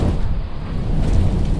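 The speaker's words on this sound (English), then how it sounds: "Thunder and lightning are very startling." Thunder rolls during a storm, a deep, loud, continuous low rumble with steady noisy texture, heard alone without voices.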